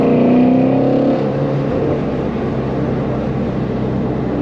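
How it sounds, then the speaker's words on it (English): Ford Mustang Shelby GT350R engine and exhaust running close by, a loud deep droning rumble that eases slightly after the first second into a steady growl, with no talking. "that may be the best sounding exhaust and best sounding engine I've ever heard"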